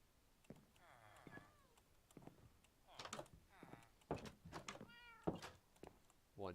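Cat meowing in a Minecraft-style video game: several short, high meows spaced irregularly, mixed with soft knocks and thuds, fairly faint overall.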